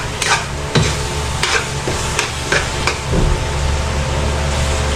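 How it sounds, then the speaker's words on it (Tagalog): Steady sizzling of hot oil boiling in a pan with santol, a continuous hiss with occasional sharper crackles and pops, close by. "Mantika na yung kumukulo dito sa may gilid."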